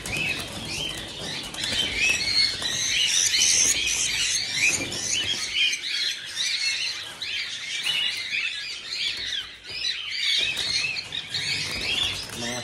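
A dense flock of birds chirping and calling continuously with fluttering wing flaps, a busy high twittering chorus that fills the whole stretch, close and fairly loud.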